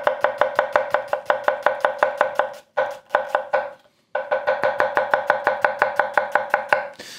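A 180mm Japanese petty knife dices food on a board in rapid, even chops, roughly four per second. The knocks are close and crisp, with two short pauses between runs.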